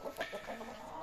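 A broody hen sitting on eggs to hatch them gives soft, faint, close clucks in a short burst.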